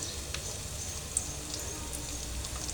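Ground cumin, turmeric and salt sizzle in hot oil, a soft continuous crackling hiss that stays close and even, with one brief sharp pop partway through and no voices.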